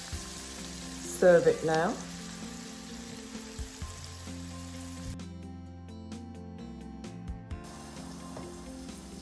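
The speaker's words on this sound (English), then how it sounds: "we just want to leave it frying for another 4 to 5 minutes" Steady, soft sizzling of green beans frying in a pan runs throughout, with a brief louder clatter early on and a short spoken remark.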